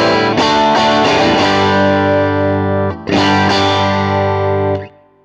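Clean electric guitar tone from a demo of the Fluxmachines Black Pepper low-gain germanium boost pedal. Full chords ring out loud and sustained, a second strum follows after a brief dip, and the sound then cuts off.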